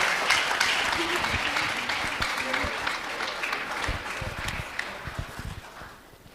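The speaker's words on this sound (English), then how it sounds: "Please, a round of applause for them." Audience at a teachers' certificate award ceremony claps for honoured teachers, with loud sustained applause that gradually thins into scattered claps, faint voices mixed in.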